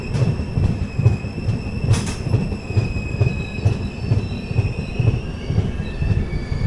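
Hubballi–Kochuveli Weekly Express rolling into Ranibennur station, with a steady low rumble of wheels, rhythmic clacking over rail joints and faint high-pitched wheel squeal sustained throughout.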